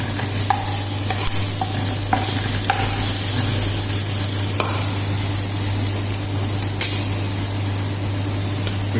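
Garlic paste being stirred into golden frying onions in a pan, a steady sizzle with repeated scraping strokes of the spoon at close range, no voices.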